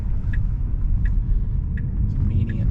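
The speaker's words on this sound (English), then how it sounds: "There's a car coming from the right" A car approaching from the right, heard from inside a Tesla Model 3 Performance (Highland), a low steady road rumble under faint repeated chimes, with no clear rise as it nears.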